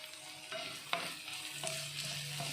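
Onions sautéing for a Kerala small-onion sambar, with a spoon scraping the pan in a few distinct strokes over a steady low sizzle, close and fairly quiet with no voices.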